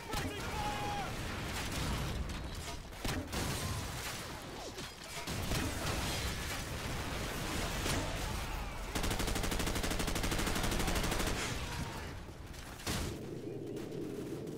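Heavy video game gunfire laying down suppressing fire, dense bursts of rapid shots and explosions sustained over several seconds, with tense shouted game voices mixed in.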